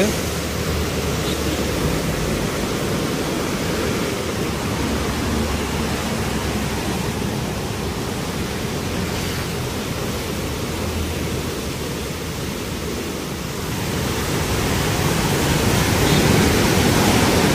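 Mountain stream near Manali in the Himachal hills, flowing under a small bridge with strong water pressure, gives a steady, loud broadband rush that stays even throughout with no talk over it.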